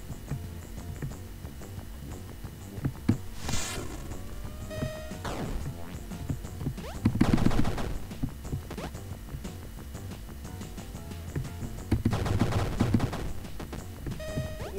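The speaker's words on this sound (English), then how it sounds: "Yeah, got the machine gun." Machine gun fire in the indie video game Super Crate Box comes as short rattling bursts, notably two louder rapid volleys, set among scattered crashes, whacks and game effects over a low background, with no talking.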